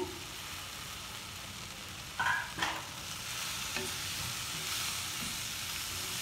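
Cooked whole wheat pasta being stirred in a pan with Maggi masala and vegetables, a soft continuous sizzle with a few scraping spoon strokes in the middle, fairly quiet and free of speech.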